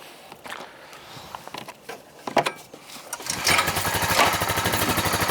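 A Deutz-Allis 1918 tractor engine catches after a few faint clanks and settles into a steady, loud, rapidly pulsing run with the choke on as it warms up.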